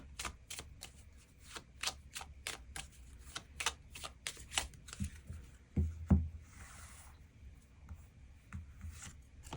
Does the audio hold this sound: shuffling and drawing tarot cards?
yes